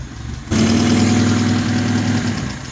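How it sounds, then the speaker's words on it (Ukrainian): A VAZ 2101 car engine starts up on choke after a brief moment and then idles steadily with a low, even rumble and slight rhythmic knocking, loud and close. "Вот подсос"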